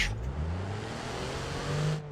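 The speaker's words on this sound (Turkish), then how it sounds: "Araba kalktı şahlandı." A car launches off and accelerates during a suspension test, the engine note rising and roaring steadily for about two seconds before easing off.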